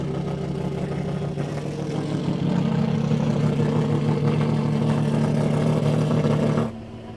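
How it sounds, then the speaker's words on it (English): A V12 sports car engine, the Eccentrica V12, roars steadily through an open exhaust, a deep throaty drone that drops away sharply near the end. "this is with the open exhaust"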